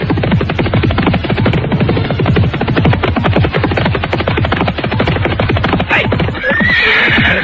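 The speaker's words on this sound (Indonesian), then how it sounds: "Mereka memacu kudanya bagaikan terbang di atas jalanan berbatu" Horses gallop hard over a rocky road in an audio drama, hooves pounding in a fast, dense rhythm at close range, loud throughout, with a whinny rising near the end.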